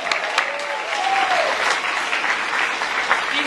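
Audience applause fills the room, a steady wash of many hands clapping at close range, with a brief whistle-like tone near the start and no talk over it.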